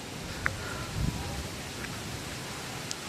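A steady, dense hiss of heavy rain pouring down without a break, with a few faint, brief sounds showing through the downpour.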